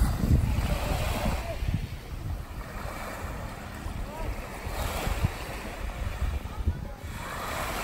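Steady surf washing onto the shore at Paradise Beach on a Caribbean cruise stop under an overcast sky, a continuous rushing roar mixed with wind buffeting the microphone.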